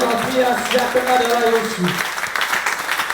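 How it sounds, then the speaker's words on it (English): Hands clap through a church service congregation, a brief burst of steady applause mixed with a preacher's voice. "clap your hands unto the Lord"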